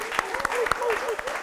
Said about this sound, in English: let's give a round of applause for Our Crib